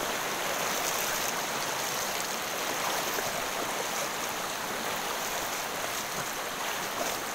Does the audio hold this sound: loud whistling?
no